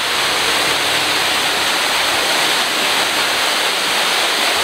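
An artificial waterfall pours heavy volumes of water, producing a loud, dense, unbroken roar of rushing and splashing that stays constant throughout without any talking.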